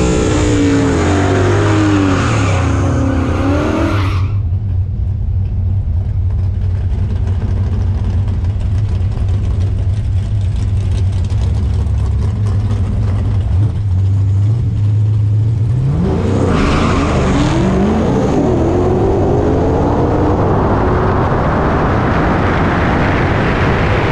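Nitrous small-block Ford manual drag car making a racing pass: a loud engine roars hard, drops to a low rumbling drone mid-run, then revs back up near and loud at the end.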